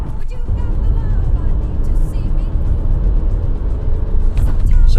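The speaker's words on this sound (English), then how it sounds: "I'm backing out of a bit of a blind corner here" A Honda Civic MK8 backs slowly out of a blind corner, its low engine drone and road rumble steady and close throughout, with a brief louder swell near the end.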